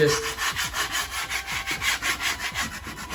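A knife scrapes and cuts dried filler off a wall during a handrail repair, producing close, rhythmic rasping strokes, about a dozen back-and-forth scrapes in quick succession with no speech.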